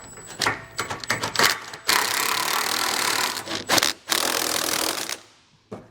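A wrench works on trailer hitch receiver bolts beneath a 2016 Jeep Cherokee, giving close, loud bursts of rapid ratcheting and scraping in uneven spurts, with short pauses between runs.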